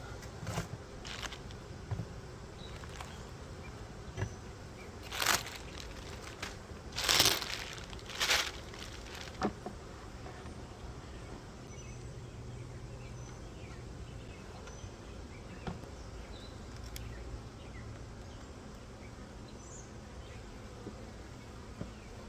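Honey bees hum around an opened hive from a package colony, a soft steady buzzing broken by a few louder close rustles and knocks from frame handling.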